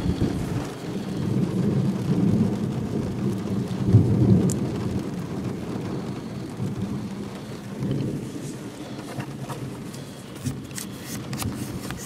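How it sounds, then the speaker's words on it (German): Deep thunder rolls and rumbles through a heavy thunderstorm with steady rain, a long booming roll that swells and fades over the downpour with no voices. "Achtung, der Ton von dem Blitz."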